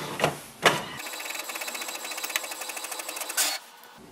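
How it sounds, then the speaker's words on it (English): An HP Smart Tank inkjet printer prints a welcome sheet with a few opening clunks, then a rapid, even mechanical chatter of the print head moving back and forth up close, ending in a brief whir. "We can print the welcome sheet and it gives a confirmation like our printer is connected or not."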